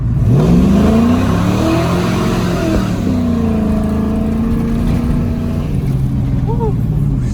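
A tuned 450 hp LS V8 car engine revs up through the gears under hard acceleration, pitch climbing and dropping with each shift, loud and close, with a voice briefly heard.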